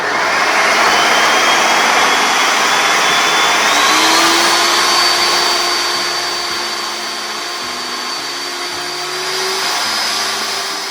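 A food processor whirs steadily as it blends a parsley-garlic dip while olive oil streams in, a loud continuous motor drone with a pitch that shifts slightly as the mixture emulsifies, with no voices over it.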